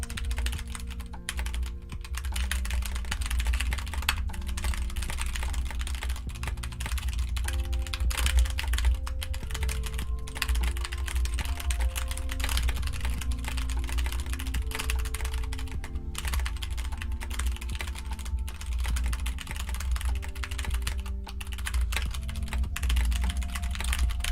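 Rapid, continuous keystrokes clatter on a computer keyboard during a Nitro Type typing race, a dense, even patter held close to the microphone for the whole stretch, with a steady low hum beneath and no voices.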